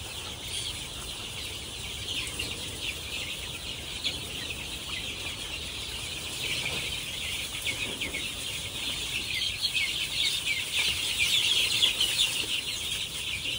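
Chickens on a Filipino gamefowl farm, White Kelsa and Golden Boy bloodlines, cluck and flap as they are caught, a steady busy rustle of fowl sounds with wing flapping that grows a little louder toward the end.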